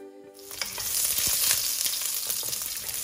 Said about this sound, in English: We'll now add in our aromatics. 5 grams of young ginger sliced. 3 pieces of shallots quartered.